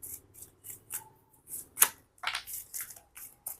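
A heavy deck of angel oracle cards is shuffled by hand, producing soft, crisp papery flicks and slaps in a loose, uneven rhythm, close and quiet with no talking.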